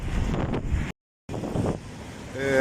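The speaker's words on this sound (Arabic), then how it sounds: "الامواج اهي باينة، قوة الامواج باينة، والتبطيش بتاع الموج باين" Storm-driven sea waves crash and churn along the Alexandria shore at Sporting, with strong wind roaring and buffeting steadily, broken by one short silent gap before the rush resumes.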